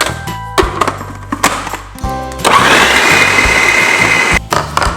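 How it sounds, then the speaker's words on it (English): A food processor whirs loudly while blending vegan energy bar ingredients, starting in short stuttering pulses, then settling into a sustained, churning grind before easing off near the end. "I'm gonna blend this about 30 to 45 seconds"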